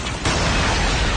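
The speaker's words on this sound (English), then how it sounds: "Predator missile inbound." A Predator missile explodes in Call of Duty Mobile, a loud, dense blast that bursts in sharply and holds as a sustained roaring rumble to the end.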